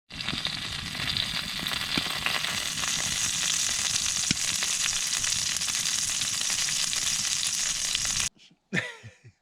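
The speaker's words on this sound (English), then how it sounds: "those are just sizzling" Sausages and onions sizzle and crackle steadily in an oiled pan, a close, continuous frying hiss that cuts off abruptly near the end.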